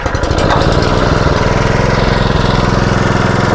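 A Honda WD20X water pump's small engine running close and loud, a steady rapid chugging putter with a slightly uneven beat at the start before settling into a constant drone.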